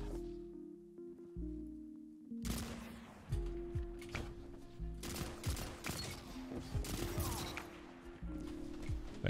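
Battle rifle gunfire in a Destiny 2 match, bursts of shots cracking repeatedly across a mid-range map amid other weapon fire and impacts, loud and fairly continuous after a quiet opening.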